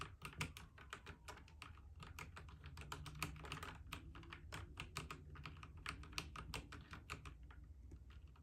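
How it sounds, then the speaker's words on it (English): Rapid clicky keystrokes on a Royal Kludge RK 100-key mechanical keyboard, irregular bursts of taps continuing steadily throughout, close and fairly quiet. "I'm not really good at typing, but here we go. I'm gonna type my name."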